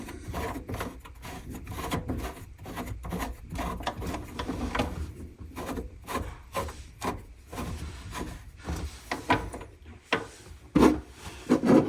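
A plastic sink tailpipe being threaded into its drain connection, a series of close creaking, scraping twists and clicks with uneven pauses, growing a little louder toward the end, with no voices.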